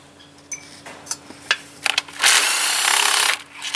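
A bolt is worked out of a 6T30/6T35/6T40 transmission solenoid body assembly, with a few scattered metallic clicks and taps followed by a loud, steady whir from a power tool lasting about a second, close up.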